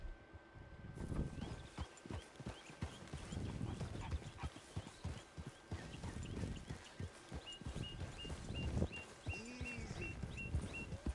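Horse hooves clip-clop steadily at a walk amid outdoor ambience in Red Dead Redemption 2, with a brief horse whinny near the end and a few faint bird-like chirps.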